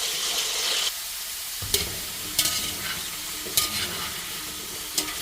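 Pork fries in cooking oil for caldereta, a steady hiss of sizzling with several sharp scrapes and knocks of a spatula stirring the meat, close and moderately loud.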